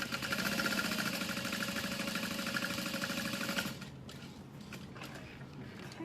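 A sewing machine runs a fast, steady mechanical chatter while top stitching a fabric clutch wallet, then stops and gives way to quieter handling and rustling.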